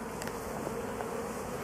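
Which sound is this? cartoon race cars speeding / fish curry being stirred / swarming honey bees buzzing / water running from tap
swarming honey bees buzzing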